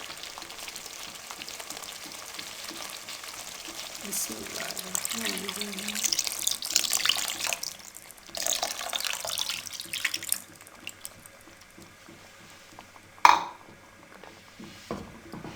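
Two cups of water are poured into sizzling masala for a matar kofta gravy, making a loud, continuous hissing sizzle that swells and fades, with a sharp clatter near the end.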